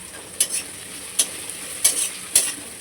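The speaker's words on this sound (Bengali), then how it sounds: "পেঁয়াজটা একটু হালকা লাল করে একটু ভেজে নেব" Julienned onions frying in a pan over a quiet, steady sizzle, with four sharp stirring scrapes spaced about half a second apart, close and alone.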